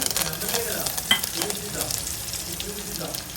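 Cumin and garlic sizzling and crackling in hot oil while being stirred, a dense close-up hiss with scraping and a few sharp pops.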